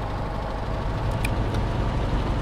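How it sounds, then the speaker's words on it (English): A P-38L Lightning's left piston engine runs steadily at idle in Microsoft Flight Simulator 2020 after a cold and dark start, a continuous low rumble that stays loud and even with no speech over it. "We now have left engine working."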